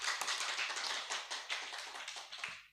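An audience at an Islamic sermon by a preacher claps on cue: a dense, fairly faint wash of many hands clapping together, continuous and fluttering for under three seconds before breaking off.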